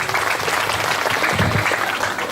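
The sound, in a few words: audience applause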